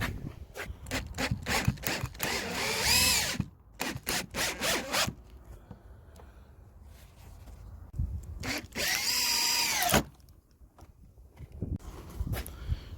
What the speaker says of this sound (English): we're going to be screwing all these corner blocks together all the way around the edge and to the base